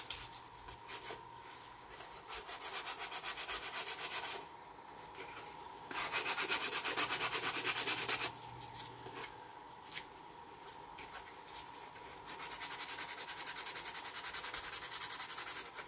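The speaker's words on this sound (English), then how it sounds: "let's put a little sanding on that tip there" Repeated back-and-forth rasping strokes of sandpaper by hand on the wooden tip of a model lifeboat, in several bursts separated by short pauses, close and steady.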